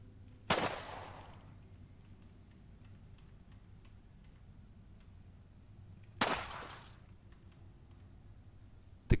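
Two single gunshots in the Cataclysm DDA zombie game, loud sharp cracks several seconds apart, each followed by a short decaying tail over a quiet low hum.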